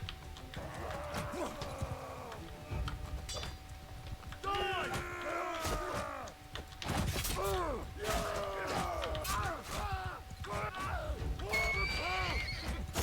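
Repeated horse whinnies ring out over a busy mix of clattering hooves, mechanical clanks and battle noise in the video game Mount and Blade II Bannerlord, with several loud neighs in the second half.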